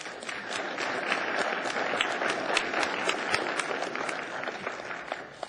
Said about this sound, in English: I guess we can applaud for you